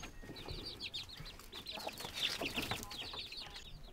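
Many newly hatched baby chicks peep in rapid, high-pitched chirps, overlapping continuously in a busy, fairly close chorus with some low rustling.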